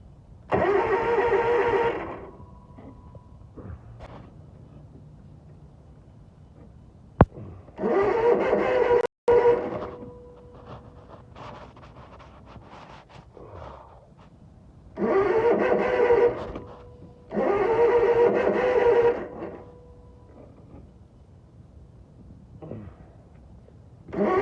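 Lawn mower engine in cold weather being cranked several times, with bursts of pull-start sputtering and brief revving separated by pauses, loud and close, the engine failing to keep running between tries.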